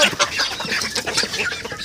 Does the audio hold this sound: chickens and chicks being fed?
yes